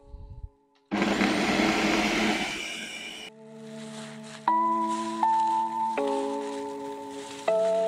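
A countertop blender runs on low, mixing a crabcake mixture. A brief clunk comes first, then a loud rough whir for a couple of seconds, which settles into a steadier hum with tonal motor whines that shift pitch several times.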